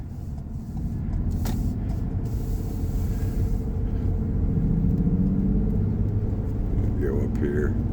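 A car rolling along Thumb Butte Road with a steady low engine rumble and road noise from inside the cabin, a few faint clicks and rattles over the drone.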